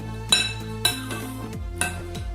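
Cucumber salad (mizeria) being stirred in a bowl, with three or four sharp clinks of a utensil against the dish and soft wet mixing in between, close and clear with no talk.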